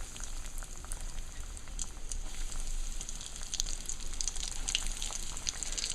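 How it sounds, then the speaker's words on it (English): Fish cakes fry in a pan with a dense, continuous sizzle and frequent small spitting pops, heard close up and alone with no talk. "So let these fry"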